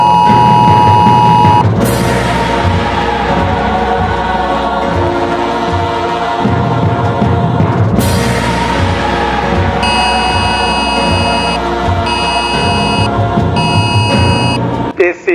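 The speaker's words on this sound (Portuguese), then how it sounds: "We all enjoyed today's test of the emergency alert system." Emergency alert system test alarm blaring from phones across New York, a loud continuous harsh tone with bursts of beeping and buzzing that restarts partway through, overlapping layers of alerts sounding at once.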